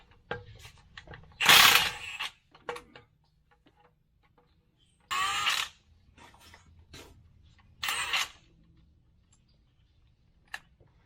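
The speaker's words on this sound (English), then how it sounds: "So we're going to pull the bolts" Ratchet loosening flywheel bolts on a 2022 Kenworth T680 truck, heard as three loud bursts of rapid clicking spaced a few seconds apart, with faint scattered mechanical ticks and small metal taps between them.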